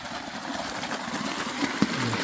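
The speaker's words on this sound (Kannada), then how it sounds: "ಇಲ್ಲಿ ಮೋಟ್ರ್ ಚಾಲು ಐತ್ರಿ." A water pump motor runs in a sugarcane field with a steady, close mechanical hum and faint rattle that holds for the whole moment, with no talk over it.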